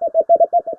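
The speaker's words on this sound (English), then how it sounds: "So this is a lesser woolly horseshoe bat, and this is what it sounds like." A lesser woolly horseshoe bat call, slowed into the audible range, pulses as a rapid series of about eight short, steady-pitched hooting tones, loud and close with no other sound.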